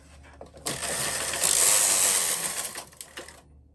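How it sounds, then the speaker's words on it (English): A lace carriage runs across a Brother or Toyota knitting machine in one loud, close mechanical swish and rattle lasting about three seconds, then quick clicks as it stops. "So I've just done my first selection row with the lace carriage"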